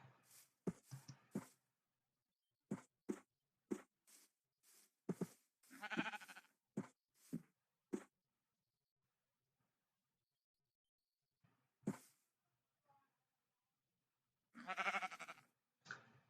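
Minecraft sheep bleat in a series of short, separate calls spread across the clip, with longer bursts near six and fifteen seconds and quiet gaps between, fairly close and alone without talk.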